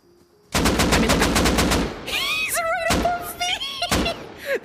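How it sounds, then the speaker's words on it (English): Gunfire in the video game Rust coming from a roof directly overhead, a rapid burst of about eight close, loud shots followed by scattered single shots and clanking thuds. "Those gunshots literally came from the roof that is above my head."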